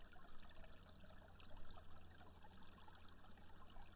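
A gentle brook flows in a steady, soft wash of trickling water, faint and continuous with no voices over it.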